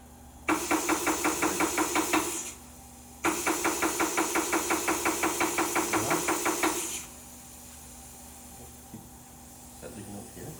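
Tire changer machine run by a foot pedal, giving two bursts of rapid rhythmic mechanical knocking with a steady motor hum, separated by a short pause, then quieter handling noises.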